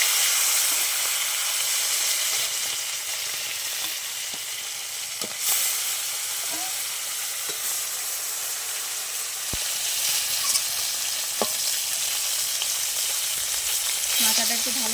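Glass carp fish head frying in hot oil, a steady loud sizzle and crackle throughout with a few sharp pops and clicks of a spatula, no voices.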